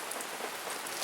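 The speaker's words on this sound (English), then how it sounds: "It's coming down, it's raining." Steady rain falling outdoors in summer, dripping off a cannon, as a continuous close hiss of drops spattering on surfaces, with no voices.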